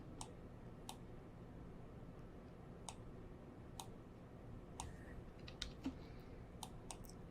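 Sharp computer mouse clicks tick out at irregular intervals, quiet and close, over a low steady room hum while vertices are dragged in Blender.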